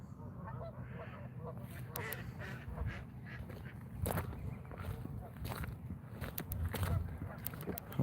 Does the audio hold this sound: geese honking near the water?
yes